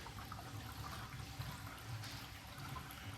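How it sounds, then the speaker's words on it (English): Water runs and trickles inside a roof, a faint, steady liquid gurgle with low rumbling, heard close and without any talk over it. "The water's not coming out, but it's definitely moving."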